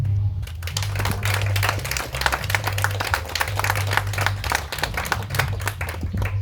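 Applause for the players at the Sudety Open 2022 tennis tournament award ceremony: steady, dense hand clapping from a moderate indoor crowd, continuous for several seconds with a low hum underneath.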